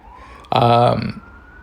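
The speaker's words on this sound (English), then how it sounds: "Apologize for the sirens in the background." A loud siren wail bursts in for about half a second over a quiet background hum, then fades away.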